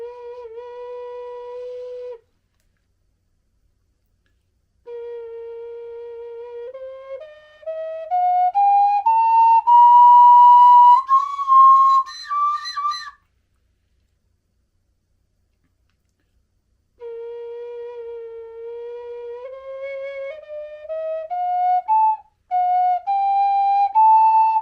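A breathy, whistle-like A4 wooden ocarina plays slow ascending diatonic scale runs, one note after another, with pauses between phrases and no voices.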